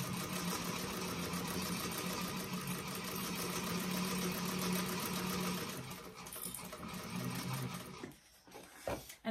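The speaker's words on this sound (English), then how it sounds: "I am going to baste this with 1/8 inch" A sewing machine bastes a bag panel to foam with a steady, close whirring hum that runs for about eight seconds before slowing and stopping amid light handling noise.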